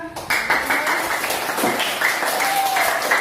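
Students in a classroom clap together, a lively burst of hand claps that starts abruptly and keeps going, with a voice speaking over parts of it.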